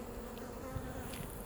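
A worker honey bee buzzes steadily inside an emptied queen cage, a close, continuous drone heard alone at low level.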